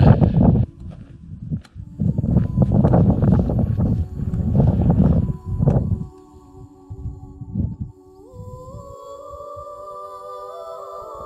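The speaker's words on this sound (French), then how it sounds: "il y a un petit peu de vent" Strong gusts of wind buffet the microphone with a deep rumble for several seconds at the snowy Col d'Ayous in the Pyrenees, then ease into a quieter stretch with faint tonal sounds.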